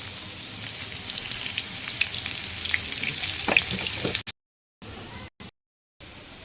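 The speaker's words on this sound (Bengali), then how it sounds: "আমার আলু তো ভাজা হয়ে গেছে" Potatoes frying in oil in a pan, a continuous soft sizzle with occasional pops and scraping, cut by short gaps of silence near the end.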